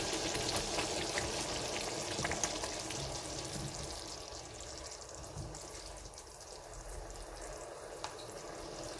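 Oil bubbles and sizzles in a pot of simmering egusi soup, a faint, steady crackle with small pops, close by and without talk.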